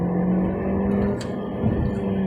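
A 2021 Volkswagen Lamando engine revs hard toward redline in manual mode, a loud, steady droning roar heard from inside the car. It dips briefly at a gear change, then climbs again.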